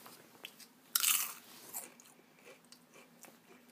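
Lay's Classic potato chips crunch loudly in a close bite, followed by quieter crisp chewing crackles that continue at a steady pace.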